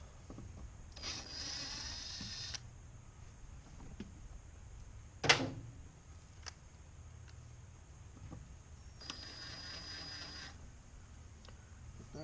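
Screws being driven back into a car door panel by hand, with a series of short mechanical clicks and ratcheting bursts and one sharp knock midway, close up and fairly quiet, no talking.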